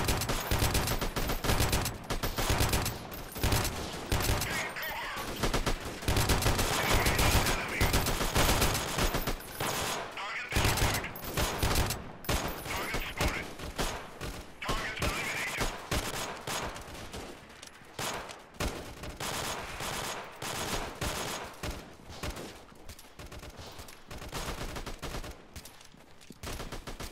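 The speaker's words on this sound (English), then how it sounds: "Opening fire." Sustained gunfire from the video game Freeman: Guerrilla Warfare, a dense, loud barrage of overlapping automatic and rifle shots that runs continuously with a few dips, with voices speaking over the battle.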